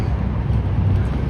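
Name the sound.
wind blowing outdoors at a street parade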